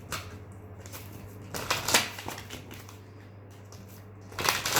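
A life purpose card deck being shuffled during a tarot-style reading, a few soft bursts of riffling and sliding cards separated by quiet pauses, close and alone over a low steady hum.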